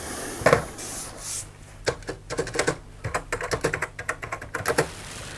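Keys clatter on TheC64 full-size computer keyboard, a replica of the Commodore 64, in a burst of quick, uneven taps with short pauses, close and crisp with no voices.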